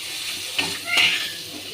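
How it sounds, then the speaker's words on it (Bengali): Raw onions frying in a pan, giving a brief hiss and sizzle with a couple of sharper stirring scrapes, close and moderately loud with no talk. "পেঁয়াজটা ভাজা করে নেব লাল লাল করে।"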